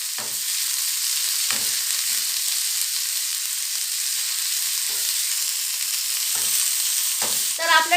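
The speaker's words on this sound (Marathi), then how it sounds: "ह्याला छान असं आपण परतवून घ्यायचं आहे" Chicken liver thecha with chopped coriander stir-fried in a pan, a steady close sizzle broken by several sharp scrapes of a spatula against the pan, with a quick burst of clatter near the end.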